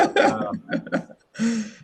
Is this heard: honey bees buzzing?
no